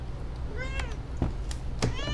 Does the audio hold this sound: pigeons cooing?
no